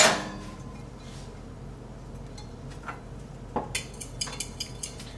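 A spoon clinks and scrapes lightly against a bowl of maple syrup in a series of soft, irregular taps, quiet and close, after a brief thud at the start.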